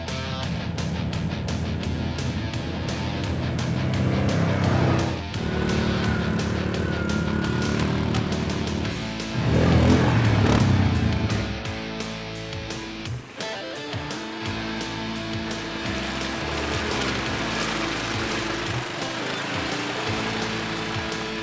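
A Yamaha Grizzly four-wheeler ATV with Ultramatic transmission runs on a farm, its engine a steady mechanical drone with a rattling, ratchety texture that swells briefly midway and then settles.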